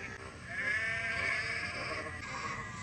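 Sheep bleating continuously from a flock being unloaded from wagons by farmers, a steady, fairly loud wavering cry lasting almost three seconds with no talk over it.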